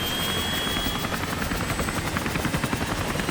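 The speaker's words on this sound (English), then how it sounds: "2 helicopters carrying 51 Marines take off from the USS Kearsarge" Two military helicopters carrying Marines lift off from the amphibious assault ship USS Kearsarge, a steady loud rotor thump and turbine whine filling the deck with dense, continuous noise.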